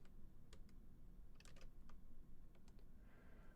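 Keystrokes on a rubber dome computer keyboard tapped in a quiet room, with irregular, soft clicks in short bursts over a low background hum.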